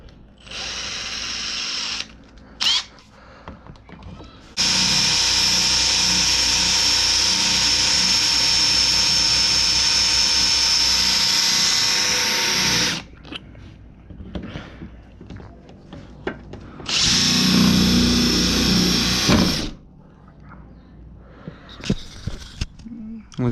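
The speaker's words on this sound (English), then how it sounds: "I'm gonna go ahead and keep drilling this metal out" A power drill whines at high speed for several seconds, grinding steadily into metal on a car bumper, then stops and starts again in a second long burst.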